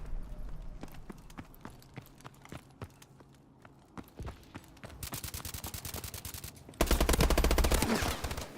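KF5 submachine gun fire in the Call of Duty Advanced Warfare video game, scattered single shots followed by rapid automatic bursts that end in a loud, dense volley, with no talking.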